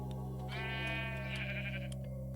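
Minecraft sheep bleating in the video game: a single nasal, wavering bleat of about two seconds, close and clear over a steady synthetic hum, with no talking.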